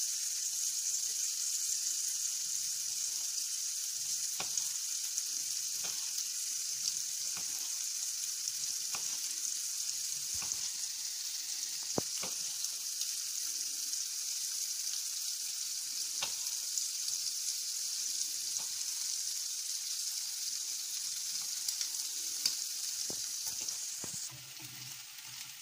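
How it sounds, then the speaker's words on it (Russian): Steady, faint sizzling of sausages frying in a pan, continuous with occasional soft clicks and pops. "Пока жарятся сосиски"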